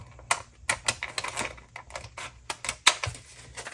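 Vellum paper being trimmed up close in a short run of crisp, uneven clicks and snips of varying loudness, with no talking.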